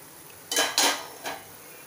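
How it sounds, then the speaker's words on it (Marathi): A pan lid lifted off a pan of paneer bhurji made from split milk, giving a few short metallic clanks and scrapes close by in a quiet kitchen, three bursts in quick succession. "आता आपण झाकण काढूया।"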